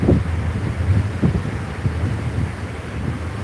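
Wind from Hurricane Idalia blows hard and continuously, buffeting the microphone with loud low gusts that swell and ease.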